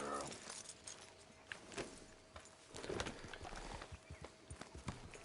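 A horse named Fred trots in Red Dead Redemption 2, hooves clip-clopping in a quiet, steady rhythm at moderate distance with faint jangling tack.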